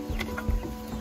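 Chickens clucking at bedtime on a farm, a few short soft clucks over a steady low hum, fairly close.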